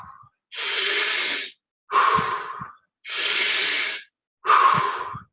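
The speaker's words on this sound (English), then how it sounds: "So make sure you're diaphragmatic breathing in through your diaphragm." Deep diaphragmatic breathing, four close, loud breaths alternating: two long hissing inhales and two forceful exhales, separated by brief pauses.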